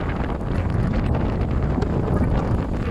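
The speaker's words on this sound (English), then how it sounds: "There's no flags today, as you can imagine with the wind." Strong wind buffets the microphone at a football ground on match day, a loud, constant low rumble of gusts filling the whole moment with no talk.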